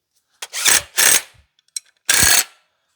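Ratchet wrench tightening a bolt on a distributor mount for an LS 5.3 engine, heard as four loud close clicking bursts in short uneven strokes with brief pauses, no talk.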